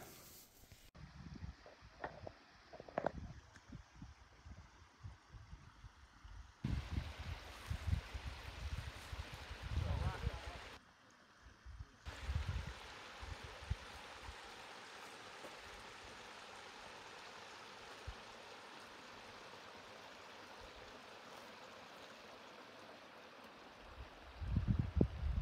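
A stream flows out of a wilderness pond in the Adirondacks, a soft continuous rush heard from a canoe, partly masked by gusts of wind noise with a few brief knocks.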